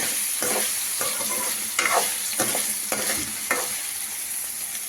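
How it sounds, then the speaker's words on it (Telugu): Paneer cubes frying in a pan for paneer fried rice, a loud close sizzle broken by repeated rhythmic stirring scrapes, with no talking. "ఇలా పన్నీర్ వేసేసుకోవాలండి. వేసుకొని కొంచెం ఫ్రై చేసుకోవాలి."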